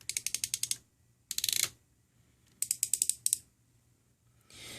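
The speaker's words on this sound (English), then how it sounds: "So listen to the sound of the ratchets." Ratchet joints on a Transformers Age of the Primes Titan class Superion figure clicking in quick, crisp bursts, several clusters of rapid plastic clicks with short pauses between, close and alone.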